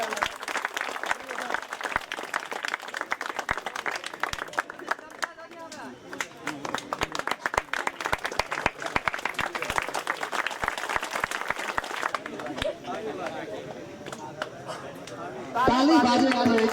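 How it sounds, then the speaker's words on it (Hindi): A crowd at a village prize distribution for a local cup tournament claps in sustained, loud applause, with a voice over a loudspeaker talking through parts of it. "उनका लेल जोरदार ताली बजानी चाहिए"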